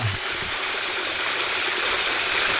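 Yeongchuk waterfall on a mountain hiking trail, a steady, loud rush of falling water that fills the air with a constant broadband roar and no break.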